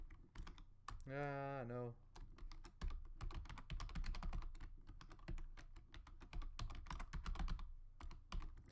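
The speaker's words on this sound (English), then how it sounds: "Sorry for the loud key typing noises." Rapid, steady clicking of keys on a computer keyboard placed right under the microphone, close and fairly loud, with a brief spoken word near the start.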